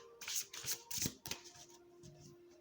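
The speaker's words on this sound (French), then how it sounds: "Je vais tirer une carte" Oracle divination cards shuffled by hand before a draw, a close series of crisp riffling bursts followed by softer card handling, with no talking.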